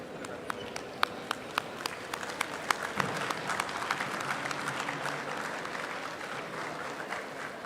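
An audience at a national mediation conference's inaugural session claps steadily to welcome arriving dignitaries, a dense, sustained round of applause with a few sharper individual claps near the start, with no speech over it.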